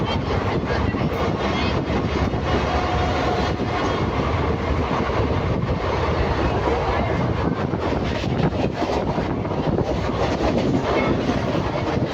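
VSKP–BBS Intercity Express train running at speed, a dense continuous rumble and rattle with faint clickety-clack and wind buffeting, loud and close from on board.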